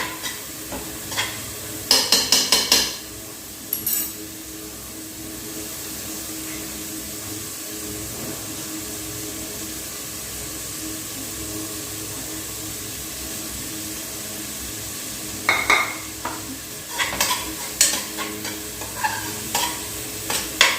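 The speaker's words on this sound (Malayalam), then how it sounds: "ഇതിലേക്ക് ക്യാരറ്റും പച്ചമുളകും കൂടെ ഇട്ട് കൊടുക്കുകയാണ്. എന്നിട്ട് എല്ലാം കൂടി ഇളക്കി യോജിപ്പിച്ച് കൊടുക്കുകയാണ്" Carrots and green chilies being stirred in a pan for broken wheat upma: a steady low sizzle runs throughout, broken by bursts of spoon scraping near the start and again toward the end, with no voices.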